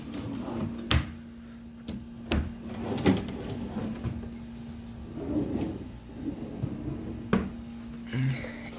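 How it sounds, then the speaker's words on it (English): Sticky drawers in a hotel room slide and knock as they are opened and shut, giving several sharp thuds and scrapes at irregular moments over a steady low room hum. "And also some drawers in here. Looks a bit jammed."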